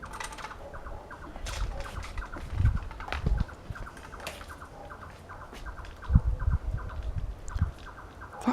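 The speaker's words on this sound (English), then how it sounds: "Can you hear that noise?" A large, unidentified bird calls at night in short, repeated chirping bursts of rapid, patterned notes at moderate distance, with scattered low thumps and rustles between them.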